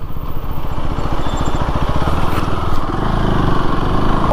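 A KTM Duke 390 single-cylinder motorcycle engine in track mode, steady close rumble with rapid firing pulses and a brief throttle swell, no talk over it.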